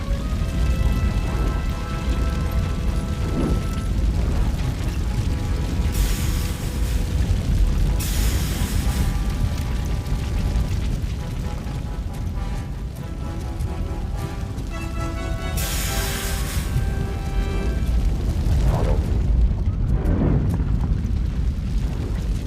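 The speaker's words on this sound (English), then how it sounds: "Fire is blocking the way." Fire roaring and crackling in RoboCop: Rogue City, a dense, loud continuous rumble with bursts of hissing flare-ups and occasional pops, steady throughout with no talk.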